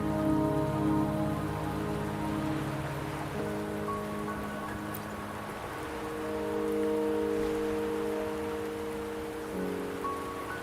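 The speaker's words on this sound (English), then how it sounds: "the rain won't last much longer" Steady rain pours down in a Wuthering Waves game scene, a dense, even hiss of drops on surfaces lasting throughout, with soft tonal game music layered underneath and no talking.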